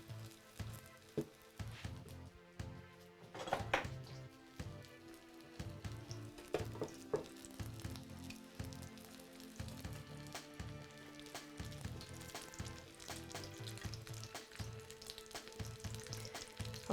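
Food fries in warm oil, a continuous soft crackling sizzle with scattered pops and occasional louder bursts, faint and steady throughout with no talking.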